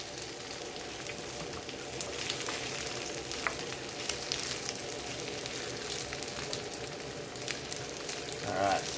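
Tofu frying in a hot pan while cooking vegan ramen, a steady soft sizzle and crackle that runs throughout at moderate, close level.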